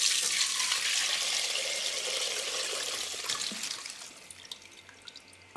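Homemade plum liqueur is poured from a container through a sieve, a steady liquid splashing and trickling that thins out toward the end into scattered drips.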